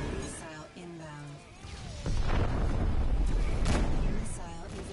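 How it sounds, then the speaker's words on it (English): Space combat in the game Rebel Galaxy Outlaw, an incoming missile and explosions as booming rumbling blasts that swell into sustained heavy roaring, with a voice speaking over the start. "Forward shields down. Missile inbound."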